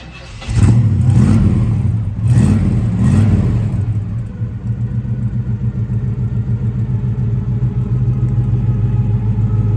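A 1966 Chevrolet Chevelle SS 396 engine cranks and catches, revs up twice, then settles into a steady, throbbing idle close by.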